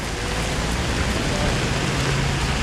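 Heavy rain pours over a street in Lisbon, a dense, steady hiss of downpour and runoff that fills the whole stretch with no pauses.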